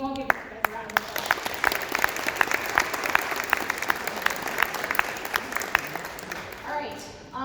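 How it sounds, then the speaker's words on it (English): A round of applause fills a stand-up meeting room, steady dense clapping from a group with a few sharp individual claps standing out, sustained for several seconds before fading as a voice returns at the end. "Can you all give these guys a round of applause?"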